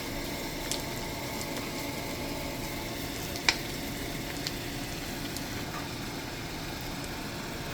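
Onions and garlic sauté in a pan for afritadang baboy, a steady faint sizzle holding throughout with a single sharp tap partway through.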